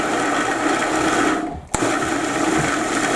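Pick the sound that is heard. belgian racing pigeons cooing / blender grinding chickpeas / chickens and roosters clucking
blender grinding chickpeas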